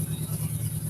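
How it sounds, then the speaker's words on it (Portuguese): An old car comes down a steep street, its engine a steady low rumble at mid distance, lasting about a second with no voices. "Tem um carro aqui descendo na ladeira."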